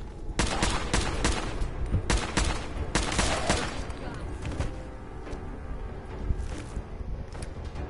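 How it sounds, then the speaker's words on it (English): Rapid bursts of assault rifle fire in Fallout 4, loud and close, cracking in dense volleys with several sharp individual shots over a steady rumbling game background. "Oh, my assault rifle."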